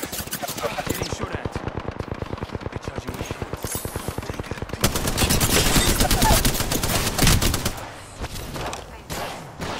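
Gunfire from Apex Legends, with rapid automatic bursts that keep up an even stuttering rhythm and then a denser, louder barrage. The shots are close and heavy, and at times a voice speaks under them.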